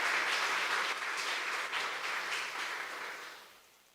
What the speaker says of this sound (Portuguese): Dá uma forte salva de palmas a Jesus aí.